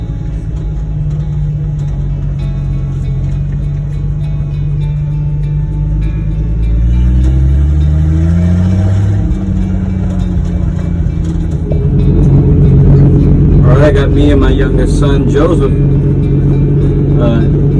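A 1972 Ford F100 truck with a 240 cubic inch inline-six engine driving, a loud low engine rumble that rises in pitch as it revs and shifts, with someone talking over it.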